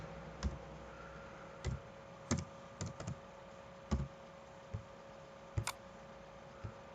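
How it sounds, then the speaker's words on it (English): A username being typed on a computer keyboard: about a dozen sparse, separate key clicks spread over several seconds, fairly quiet, over a steady low electrical hum. "And then I have to type a password which is secret."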